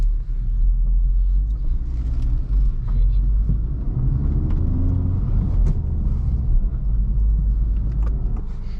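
A 2024 Honda Civic Type R with a 6-speed manual drives under power, its engine a steady, loud low rumble with road noise heard from inside the cabin, holding constant through the whole stretch.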